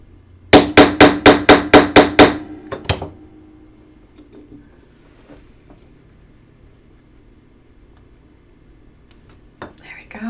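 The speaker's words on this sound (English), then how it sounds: "Put it into your punch. Tie it up just a little bit and take out your chasing hammer" A chasing hammer strikes a metal punch seven times in a quick, even run of sharp, ringing metallic blows, followed by a couple of lighter taps and then near quiet with faint background noise.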